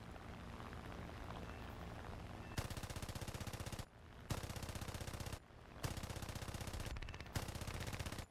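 Aircraft machine guns firing in War Thunder, loud sustained bursts of rapid fire separated by short pauses, with continuous engine drone underneath.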